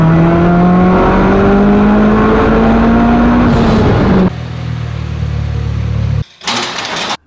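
Loud Mitsubishi Lancer Evolution engine revving through a tuning pull, rising in pitch, then dropping off to a lower idle-like rumble before a brief cut and a short burst of noise at the end.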